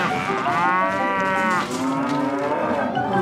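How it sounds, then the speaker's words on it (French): Cows on a farm moo loudly and close by, one long drawn-out call that sweeps up and then falls away, followed by a second lower, shorter moo. "Les vaches!"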